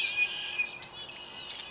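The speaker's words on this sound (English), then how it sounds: "So many birds." Several birds chirp and tweet close by outdoors near ducks on the water, thin high calls repeating over a steady faint background hiss.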